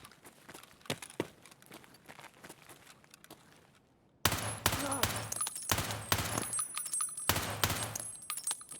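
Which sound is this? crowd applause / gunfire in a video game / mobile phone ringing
gunfire in a video game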